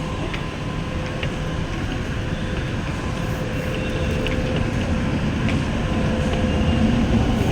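A train rolls along at KL Central with a steady, loud rumble and low wheel noise that swells slightly as it moves. No one speaks over it.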